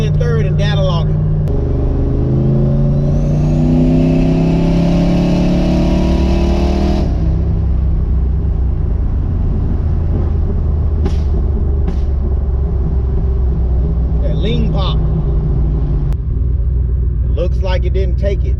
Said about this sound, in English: I'm gonna do a little rip right here in third and data log it.